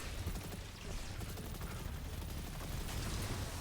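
Bolt Shot gunfire in the Destiny 2 Lightfall mission No Time Left, a dense continuous barrage of rapid shots and impacts at steady loudness, with no talking.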